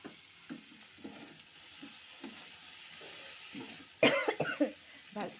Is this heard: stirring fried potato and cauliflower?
yes